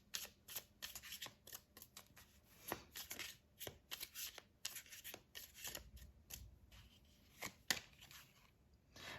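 Oracle cards shuffled by hand in a quiet room, a run of crisp riffling and slapping bursts repeating irregularly, close and fairly soft, with no talking.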